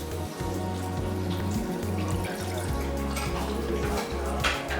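Water poured into a pan on the stove for a mango choco glasses dessert, a steady continuous splashing and running pour with droplet patter over a low background hum, fairly close and alone.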